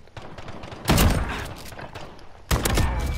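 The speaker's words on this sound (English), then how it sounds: "This is a slug. Yeah, it's a slug shotgun." Two heavy slug shotgun blasts in Call of Duty Modern Warfare, loud and booming with a ringing tail, the second following about a second and a half after the first.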